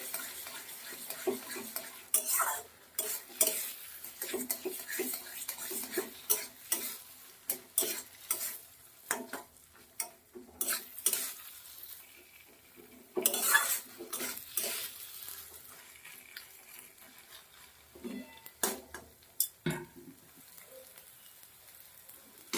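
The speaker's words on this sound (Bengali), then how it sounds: "গ্যাসটাকে মিডিয়ামে রেখে আলতো হাতে নেড়ে নেড়ে শুকিয়ে নিতে হবে ফুলকপিটাকে।" Cauliflower being dry-fried over medium heat in a pan for a mashed cauliflower dish, with a spatula scraping and stirring in repeated uneven strokes over a light sizzle, close and clear, no talk.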